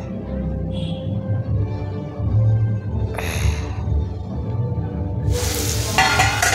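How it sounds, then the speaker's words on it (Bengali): Potatoes being stirred in a sizzling pan for aloo posto, with a continuous close frying hiss, occasional scraping strokes and a sharp clatter near the end. "দেখুন নাড়াচাড়া করছি একটু, তো নাড়াচাড়া করে নিচ্ছি"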